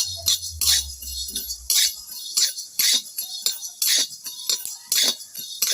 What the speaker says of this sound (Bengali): ধনেটা আমি ভেজে নেব